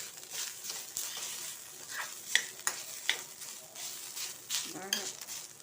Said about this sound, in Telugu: వేగాలి కొబ్బరి. ఇది లేత కొబ్బరి వేసాను నేను